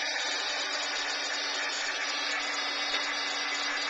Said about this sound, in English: And then I'm going to use my heat gun, and I'm going to dry it.